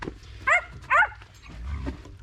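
A young male dog makes playful vocal noises in two loud, close bursts of yips and growly whines, followed by quieter grumbling, with no one talking.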